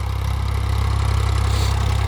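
A modified Ford 3600 tractor engine runs steadily at close range, a loud low rhythmic diesel chug with no talk.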